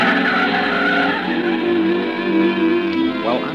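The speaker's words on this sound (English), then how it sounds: "It's an old car, pre-war. It sounded like it was splitting at the seams." Tires of an old pre-war car skidding as it turns sharply, a loud continuous squeal with a wavering pitch that lasts throughout, engine rumble underneath and a brief upward chirp near the end.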